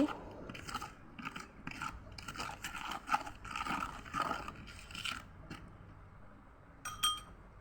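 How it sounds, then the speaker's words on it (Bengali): A spoon mixes eggshell powder into water in a small container, making close, gritty scraping and light clinking strokes that come in bursts before trailing off, with no speech. "এই যে দেখুন, আমি চামচের সাহায্যে ভালোভাবে মিশিয়ে দিচ্ছি।"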